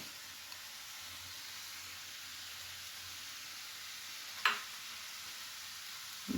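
Chopped vegetables with green chili and spring onion fry in a pan for a chicken salad, giving a steady soft sizzling hiss throughout, broken once by a single brief clink near the end.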